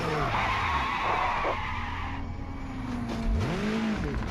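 A race car in Project Motor Racing takes a hit and skids off with loud, sustained tire squeal and shifting engine tones, ending in a rising and falling screech as it slides out, close and without talk.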